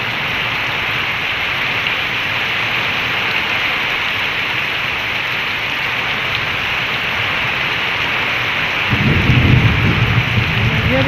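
Heavy rain pours steadily on surfaces in a thunderstorm as a dense, loud wash, with a deep rumble of thunder rolling in near the end.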